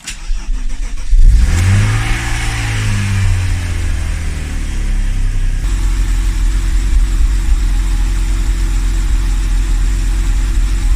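A neglected BMW E36 M3 3.0 cranks and catches, its engine sweeping up in a loud rev before settling into a steady, rough, close idle that continues to the end.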